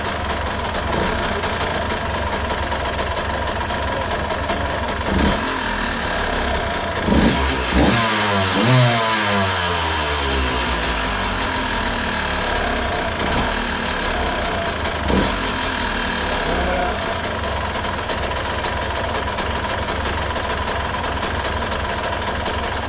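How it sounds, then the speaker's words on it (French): A Yamaha DTR 125 motorcycle engine fitted with an Ignitech CDI runs steadily for a long stretch, a loud close idle with a brief rev partway through and no talk. "Le moteur, là, ça va bien."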